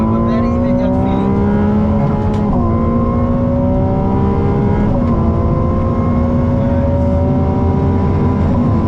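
A Ferrari 296 GTB hybrid accelerates under throttle, its engine note climbing steadily through the gears with brief dips at each shift, loud and close throughout.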